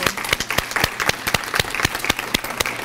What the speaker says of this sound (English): Let's applaud all the scholars